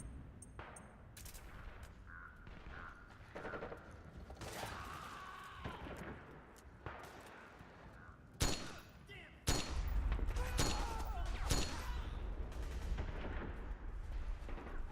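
Repeated gunfire in Metal Gear Solid 4 running on a PC, with sharp shots and mechanical clanks scattered through the clip, then a heavier, sustained burst near the end, with a voice speaking over parts of it.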